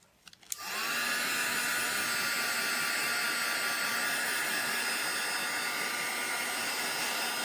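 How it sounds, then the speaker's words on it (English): A Marvy Uchida heat gun switches on after a click and runs with a loud, steady blowing whoosh and a faint high whine, continuing close up with no talking. "This is a Marby Yoshida heat gun, which I just traded out my old one"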